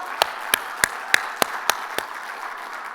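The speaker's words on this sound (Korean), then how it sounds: "하나님께 영광의 박수를 드립니다" Sharp, evenly spaced claps ring out in a reverberant church hall during a worship service, about eight in a steady rhythm before fading into a soft crowd murmur.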